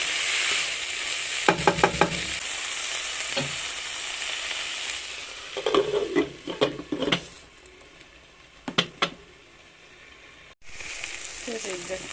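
Small omena (dagaa) fish frying in a pan produce a steady sizzle, interrupted by a few short clusters of scraping and stirring clatter. Nobody speaks.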